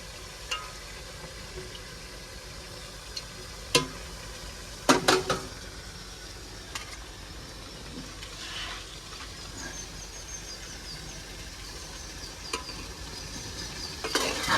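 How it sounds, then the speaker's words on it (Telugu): Country chicken meat frying in a pan inside a truck, a soft steady sizzle with several sharp clinks and scrapes of a spoon stirring against the pan. "బాగా కడుక్కున్న నాటుకోడి మాంసం వేసుకొని"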